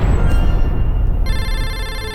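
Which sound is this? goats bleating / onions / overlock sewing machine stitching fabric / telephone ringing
telephone ringing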